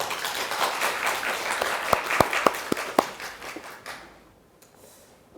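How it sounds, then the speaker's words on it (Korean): A lecture-hall audience at Korea University applauds in welcome, with steady many-handed clapping and a few sharp, close claps standing out before the applause fades to quiet. "박수로 환영해 주시기 바랍니다"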